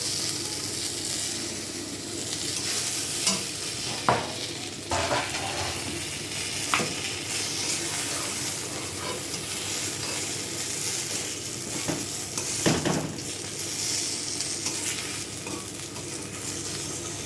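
Eggplant (brinjal) pieces frying in oil in a pan: a steady, close sizzle with a few scraping stirs and clinks of a utensil against the pan, and no talking.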